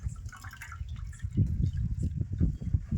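Whey drips and trickles from a cloth as freshly made homemade paneer from cow's milk is squeezed tightly by hand, giving soft, close liquid spatters in uneven bursts.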